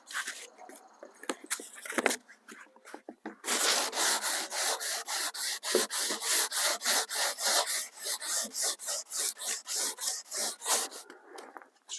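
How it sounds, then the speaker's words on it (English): Rhythmic strokes of 600 grit sandpaper used wet on a wooden cabinet of a 1949 TeleKing 10-inch television, a close, steady back-and-forth rasping that settles into an even repeating pattern after a few scattered scrapes. "I'll just use 600 grit paper with water. Get it as smooth as we can."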